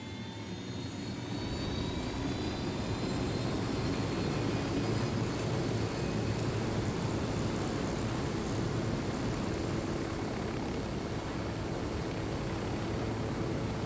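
Aircraft flying in the video game Ghost Recon Wildlands, a steady engine drone that holds loud and continuous throughout with no talk over it.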